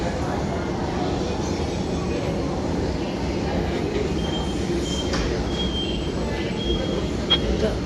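Continuous rumble of a Mumbai Metro Aqua Line 3 train running underground, with faint metallic wheel squeals and a few clicks, steady throughout.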